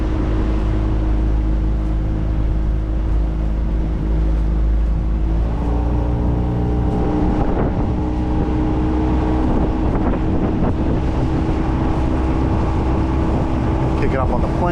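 Outboard motor boat running on the water with its engine tuned for speed and vibration, a steady loud drone that rises in pitch as the hull climbs onto plane, with wind buffeting and a voice speaking over it.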